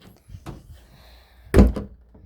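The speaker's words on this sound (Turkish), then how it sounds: "Şu kapıyı da kapatalım." A cupboard or wardrobe door in a bedroom pushed shut with one solid thunk, close and fairly loud, following a few quieter handling knocks in a quiet room.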